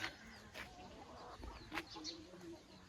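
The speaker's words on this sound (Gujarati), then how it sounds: "અમારા મરઘા" Backyard village chickens cluck in short, scattered bursts at a moderate distance, over a faint outdoor background.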